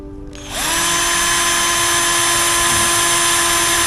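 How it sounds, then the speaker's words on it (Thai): A power drill spins up after a brief pause and whines steadily at high speed, close and loud, as it bores a hole through a small plastic water tank. "เราก็เจาะไปเลย"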